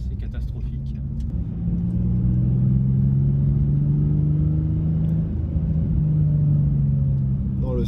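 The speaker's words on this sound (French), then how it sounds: "Avoir un bon son, je trouve que c'est quelque chose d'important dans une voiture." Car engine and exhaust heard from inside the cabin while driving on a rough, bumpy road: a steady low drone that swells after the first second and holds with slowly rising tones, with no talk.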